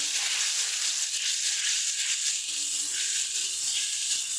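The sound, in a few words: cauliflower curry spices and dried chilli paste frying in a pan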